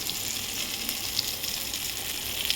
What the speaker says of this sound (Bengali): কড়াইয়ে তেল গরম হয়ে গেছে। এবার আমি একটা করে ভেজে নেব।